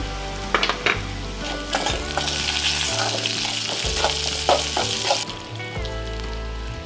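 Poppy seeds, cinnamon, cloves and garlic hit a pan of fried onion and sizzle steadily and close, with scraping stirs and occasional clinks against the pan for a village-style chicken sambar.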